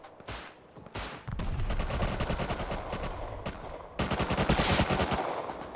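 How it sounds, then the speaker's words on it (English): An MP5 submachine gun fires in Rust in rapid sustained automatic bursts, loud and close, with a brief pause between strings of shots. "My MP5 is great."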